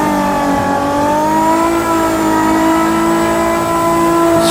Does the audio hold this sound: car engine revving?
yes